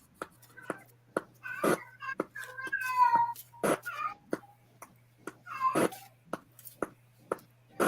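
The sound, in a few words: cat meowing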